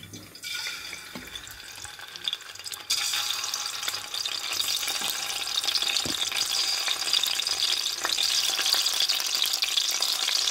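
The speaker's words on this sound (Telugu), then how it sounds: "ఇప్పుడు ఎగ్స్ని వేపుకోవాలి ఫ్రెండ్స్" Eggs fry in oil in a pan for an egg and dried prawn curry. A faint sizzle swells suddenly into a louder, steady crackling fry and holds to the end, close and without talk.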